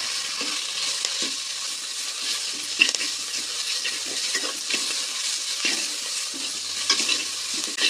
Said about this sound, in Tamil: மல்லி புதினா வெங்காயம் எல்லாமே நல்லா வதக்கிக்கலாங்க